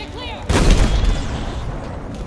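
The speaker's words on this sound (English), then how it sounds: "Grenade, here it comes. Grenade, get clear." A grenade explosion in Halo Infinite, a sudden loud blast followed by a rumbling decay, preceded by game noises and a voice.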